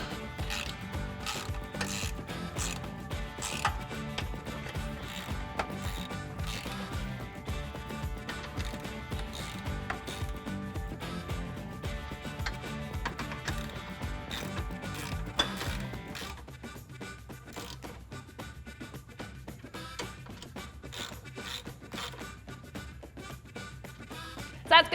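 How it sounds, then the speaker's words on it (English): A 13mm socket on a 3/8-inch drive ratchet clicks steadily as it tightens step bar bracket bolts to the body of a 2005-2019 Toyota Tacoma Double Cab, close and continuous, with a steadier, quieter stretch toward the end. "I'm going to be using a 13mm socket and a 3/8" drive ratchet in order to do that."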